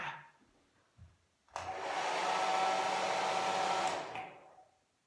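A hair dryer switches on with a sudden whoosh, blows steadily and loudly for a few seconds, then winds down and stops.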